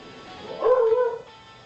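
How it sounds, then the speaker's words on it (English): A dog gives a single loud, close whimpering yelp with a tonal, whining quality, rising out of quiet room tone and fading after about half a second. "And my dog is being very loud"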